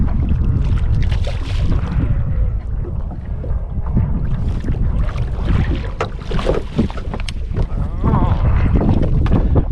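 Gusting wind buffets the microphone in loud, uneven bursts, mixed with water sloshing around a small fishing boat in the Gulf at Karumba.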